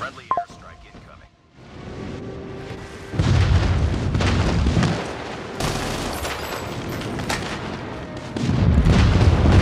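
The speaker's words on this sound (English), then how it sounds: "Friendly airstrike incoming." Airstrike explosions in the mobile shooter Call of Duty Mobile, a run of heavy booms and rumbling blasts that builds after a brief quiet, loud and dense, with a game voice announcing events.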